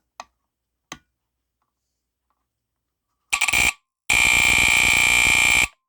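Two faint clicks, then a short burst of harsh electronic beeping and a loud, continuous piercing alarm tone from a FireX FXC-1 smoke detector with a Kobishi CLB-26 vibratory sounder, close and shrill.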